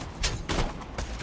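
Gunfire in the video game Borderlands 2, a few muffled shots in a quick ragged burst, fairly quiet in the game mix.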